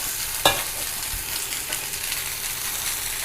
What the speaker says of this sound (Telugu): అవి కొంచెం వేగనిద్దాం ఒక ఒక నిమిషం